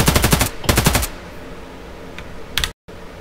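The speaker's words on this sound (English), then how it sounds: "RPK unsilenced." Unsuppressed RPK machine gun firing in Escape from Tarkov, two loud rapid bursts of about half a second each, then a brief short burst after a pause.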